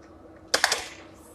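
A quick run of three or four crisp key clicks on a computer keyboard, close and clear, as a word is typed into a search box, then quiet.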